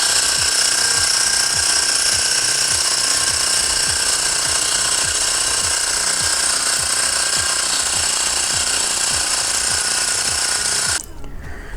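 A Xiaomi Mijia portable air compressor pumps up a tire with a loud, steady, rattling drone and a rapid piston pulse. It runs close and alone for about eleven seconds, then cuts off abruptly.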